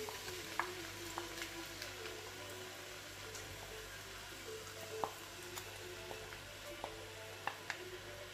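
Frozen spinach hitting onions already frying in a pan: a faint, steady sizzle with scattered small crackles and pops, quiet and close.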